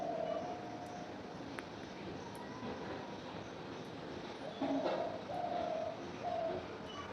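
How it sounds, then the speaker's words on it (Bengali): Morning birdsong comes in through an open window: faint, scattered short calls and a few brief whistled phrases over a steady broadband hiss of outdoor noise. "সকালবেলা ঘুম থেকে উঠে জানলাটা যখন খুলি পাখির আওয়াজটা যে কি ভালো লাগে"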